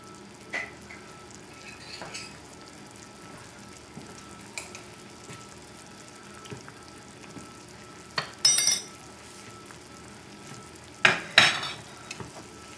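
A tablespoon of crushed tomatoes drops into a hot pan, giving a few short bursts of sizzling and sputtering against a quiet kitchen background, with light clinks in between.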